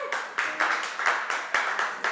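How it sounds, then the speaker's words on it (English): Audience applause at a radio show, a steady run of clapping from a live crowd with swelling bursts throughout, fairly close and full, with no talking over it. "give yourselves a round of applause"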